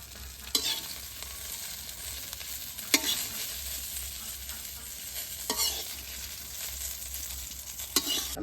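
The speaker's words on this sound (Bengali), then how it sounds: "পাতাগুলা ভেজে নিব।" Kharkon leaves frying in a pan, a soft steady sizzle punctuated by four evenly spaced scraping stirs of a spatula.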